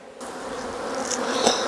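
Honey bees swarm near the microphone while a hive is moved into new APIMAYE hives, and the buzzing grows into a dense, steady drone that gets louder toward the end.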